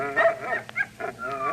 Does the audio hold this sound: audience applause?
no